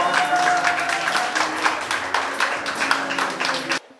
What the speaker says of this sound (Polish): Brawa, brawa, naprawdę śmiało.